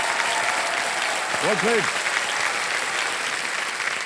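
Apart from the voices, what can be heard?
studio audience applause on a TV quiz show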